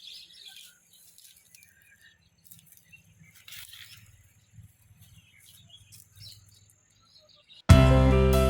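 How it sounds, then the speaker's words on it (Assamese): Birds at a riverside ghat at sunset give sparse, faint high chirps and tweets over near-silence, before a sudden loud burst of sound at the very end. "আপোনালোকে চাগে শুনিছে চৰাই চিৰিকটিৰ মাত"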